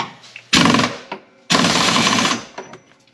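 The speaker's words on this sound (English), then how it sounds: "Alright, now it's air ratchet time." An air ratchet hammers on a bolt on a 2013 Arctic Cat Prowler XTZ 1000 in two loud close bursts, the second longer, separated by brief quiet gaps with faint clicks.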